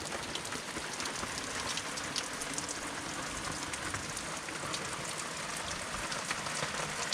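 Steady rain falls outside, heard from a doorway as a dense, even patter of drops hitting surfaces close by, continuous and unbroken for the whole stretch.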